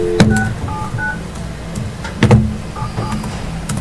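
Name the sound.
telephone being dialed during a meeting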